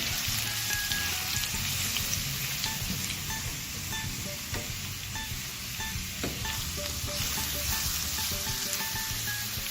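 Garlic paste and onions frying together in a pot for a pilau, giving a steady close sizzle and crackle with occasional soft stirring scrapes and no voices.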